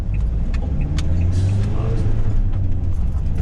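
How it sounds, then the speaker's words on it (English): A bus drives past and hits a road ramp without slowing, a loud close rumbling engine roar with a thump or two as it crosses, heard from nearby in the street. "Bus did not slow down for the ramp there at all."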